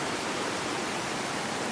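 A mountain stream in Tasmania flows steadily beside the trail, its broad, even rush of water holding constant throughout at moderate level with no voices.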